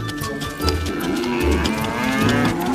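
Cows moo several times in a pastoral scene of cattle taken out to graze near a jungle, low drawn-out calls rising over one another against soft background music.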